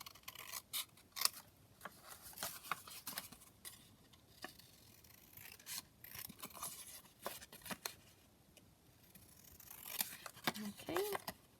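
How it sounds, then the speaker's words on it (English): Scissors snipping through paper to cut out a small journaling card for a junk journal, a run of short crisp clicks and slicing strokes, close and fairly quiet, with some soft speech-like sounds in places. "So just cut out another little journaling card to just pop in the side of there."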